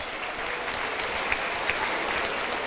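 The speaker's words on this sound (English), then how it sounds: "That deserves a round of applause." An audience at an aviation event in Oklahoma claps steadily, a dense, even wash of applause with a few sharper individual claps.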